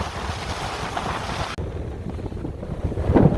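Strong onshore southeasterly wind buffets the microphone over rough, choppy bay water at Dauphin Island ahead of a tropical storm, a steady loud rush with no voices.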